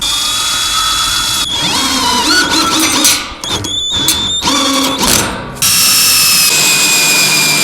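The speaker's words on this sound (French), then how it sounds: "Pour les visser, il faut une douille de 8. Et une visseuse" Cordless screwdriver with an 8 mm socket driving roofing screws into a roof, loud whirring motor bursts with rising whine and ratcheting clicks as each screw seats, heard close with no talking.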